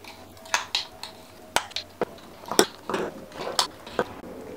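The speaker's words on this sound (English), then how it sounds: "I'm going to mix that all together once again just to make sure that it's all evenly minty" Homemade zero-waste toothpaste being stirred in a bowl with a utensil, giving a run of sharp scraping and clinking taps at an uneven rhythm, close and fairly clear with no talking.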